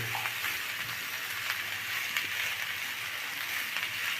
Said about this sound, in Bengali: পেঁয়াজ কাঁচামরিচের সাথে সবজিগুলি ধীরে ধীরে মিশিয়ে নিব